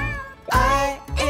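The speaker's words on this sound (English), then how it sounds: "There was a farmer who had a cat, and Bingo was her name-o." A cartoon cat in a farm nursery-rhyme song meows twice, loud and up close, with a short gap between the two calls.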